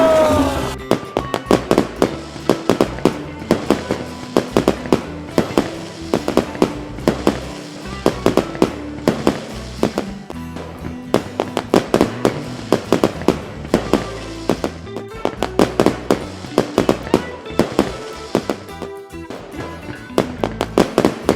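Fireworks set off at a wedding celebration, a long dense barrage of loud crackling bangs and pops in rapid irregular succession, close and continuous throughout.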